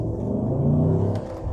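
A Cadillac Escalade ESV V8 accelerates on a bypass, its deep engine rumble rising steadily from inside the cabin over about a second and a half before easing slightly at the end, with no talking.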